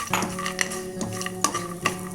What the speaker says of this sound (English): start roasting your peanuts